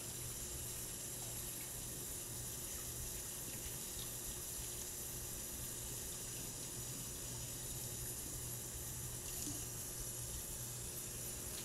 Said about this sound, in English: And then we go back into the running water.